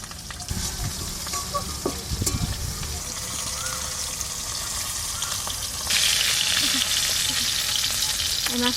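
Pabda fish from the Ajay river fry in mustard oil in a wok, with a steady close sizzle, a few scraping stirs early on, and the hiss swelling louder toward the end.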